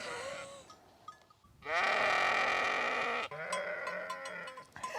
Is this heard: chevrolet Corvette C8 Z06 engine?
no